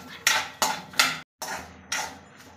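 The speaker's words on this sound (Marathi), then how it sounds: "आता आपण शेंगदाणे टाकून घेऊया, मिक्स करून घेऊया" Peanuts and potatoes stirred in a cooking pan, giving several loud scraping, clattering strokes of a utensil against the metal in an uneven rhythm, with a short silent break partway through.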